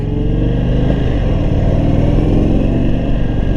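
Indian Super Chief V-twin cruiser motorcycle engine thrumming steadily at close range, a loud, low, continuous pulsing rumble heard from the rider's position with no talk over it.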